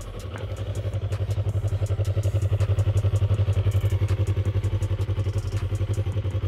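A 2017 Yamaha R3 sport motorcycle engine revs with a steady, rapid pulsing throb, swelling slightly louder in the middle before easing back; no voices.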